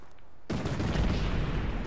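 Gunfire in the Fortnite battle royale video game bursts in after a short quiet moment and continues as a dense, loud barrage of shots with no talk.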